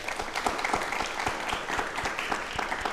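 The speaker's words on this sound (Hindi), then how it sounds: "तालियां प्लीज" A studio audience on a Rajasthani television talk show claps together at a steady, fairly dense pace, a medium-distance round of applause with no talk over it.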